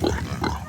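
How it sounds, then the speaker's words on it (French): Wild pigs on Koh Soum grunting close by, a run of low, rough grunts in quick succession with a second cluster midway, steady and moderately loud. "Ou les cochons sauvages de Koh Soum."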